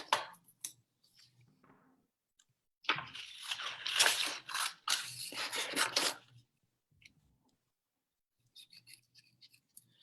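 Scissors snip through a paper craft piece in a burst of quick, close crunching cuts, with a few faint isolated snips before and after.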